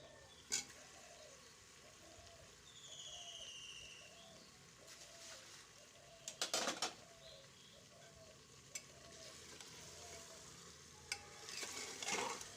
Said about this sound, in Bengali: এবার মাংসের সাথে আলুগুলোকে ভালো করে খুন্তি দিয়ে নেড়ে চেড়ে মাখিয়ে নেব।